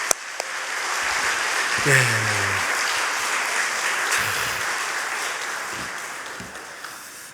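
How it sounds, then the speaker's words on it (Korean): A church congregation applauds during a worship service, giving a steady, full wash of clapping throughout. A voice speaks briefly over it. "박수 한번 보내도록 하겠습니다"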